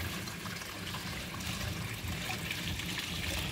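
Water trickles steadily from a small moss-covered waterfall into a fish pond holding gourami and tilapia. The splashing is close and continuous with even loudness and no voices.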